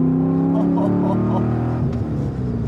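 GMC Typhoon engine running, with a steady close low drone of exhaust and engine tones that rise slightly in pitch in brief revs, continuous throughout.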